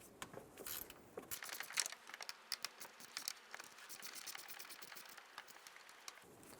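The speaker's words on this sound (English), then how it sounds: "Using a 10mm socket, we're going to undo the two bolts for the fan assembly" A socket wrench undoing the radiator fan assembly bolts on an Infiniti G35, rapid light ratcheting clicks and small metallic rattles running steadily, close and fairly quiet.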